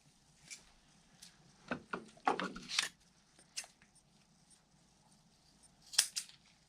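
Scissors cut material for a mold on a workbench: a few sharp snips and crisp cutting strokes in short bursts separated by quiet gaps, close and fairly quiet.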